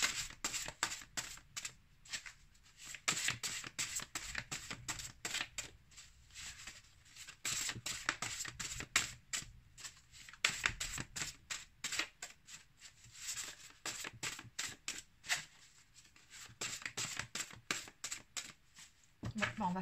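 Oracle message cards being shuffled: a long stretch of rapid, papery riffling and flicking, fairly close, with a voice talking over it throughout.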